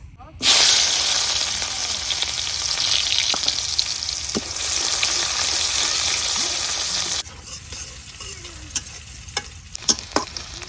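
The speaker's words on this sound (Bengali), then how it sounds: "মাছ ভাজার তেলের মধ্যে এখন দিয়ে দিতেছি পেঁয়াজ" Onions go into hot oil left from frying fish, setting off a sudden loud hiss that holds steady for several seconds, then drops to a quieter sizzle broken by scattered stirring clinks and pops.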